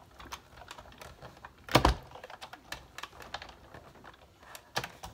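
Specialty paper running through a die-cutting machine for a Valentine card, a loud crunching pass near the two-second mark, then a later sharp thunk, with light clicking and handling noise throughout.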